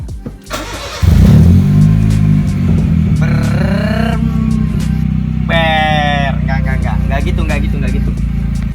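A modified Honda Jazz GE8 runs with a loud aftermarket exhaust, starting with a sudden deep roar, then holding a rumbling idle broken by sharp revs that climb and fall, close by.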